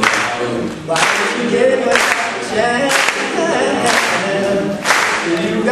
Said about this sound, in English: Now everybody clap your hands